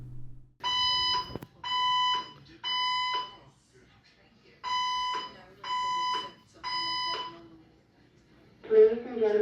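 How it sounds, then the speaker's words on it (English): A hotel fire alarm sounds loud electronic beeps in two groups of three evenly spaced tones separated by a pause, followed by a voice starting to speak. "We are experiencing an activation of our fire alarm system."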